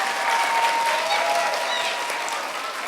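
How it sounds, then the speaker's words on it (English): A school assembly audience claps in a steady, moderately loud wash of applause that fades slightly toward the end, with no speech over it. "Let's give another round of applause."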